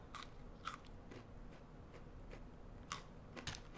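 Quiet, close crunchy bites and chewing of a decadent chocolate-coated Pocky stick, a shorter biscuit stick with more chocolate, come as a few crisp snaps spaced irregularly with no talk.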